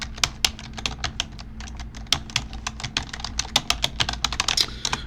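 Close, steady typing on a computer keyboard, the key clicks falling in quick irregular runs with short gaps between them.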